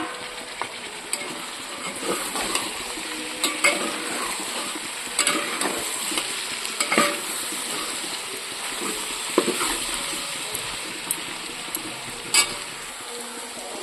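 Whole spices and tomato fry in a pan with a soft, continuous sizzle, broken by scattered clicks and scrapes from stirring.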